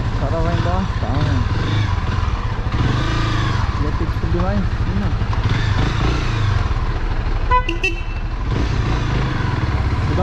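A motorcycle engine idles and rumbles nearby on a street in Ipanema, Rio de Janeiro, steady beneath someone talking throughout.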